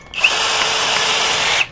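A DongCheng DCJZ1250i 12V cordless brushless impact drill fitted with a 10 mm, 30 cm auger bit runs at steady high whine for about a second and a half, starting and stopping abruptly, loud and close, with no talk.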